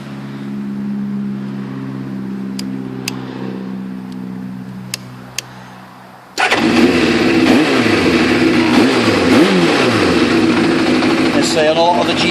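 Kawasaki GPZ600R motorcycle engine cranks and fires at about six seconds, then settles into a loud, steady idle, following a quieter stretch of low droning hum with a few faint clicks.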